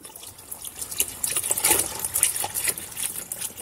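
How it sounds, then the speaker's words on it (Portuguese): Ethanol alcohol being poured into tallow for homemade orange-peel soap, a splashing, gurgling liquid pour that swells and continues close by, no voices. "aqui a gente tem 3 litros de sebo, vou colocar 2 litros de álcool"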